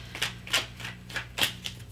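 A deck of tarot cards is shuffled by hand in several quick papery riffles and flicks, close and fairly crisp, with no talk.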